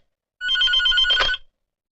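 An office telephone rings once, a short bright electronic trill lasting about a second, clear and alone against silence.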